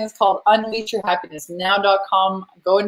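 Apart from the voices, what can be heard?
No distinct noise like a dog, phone or traffic.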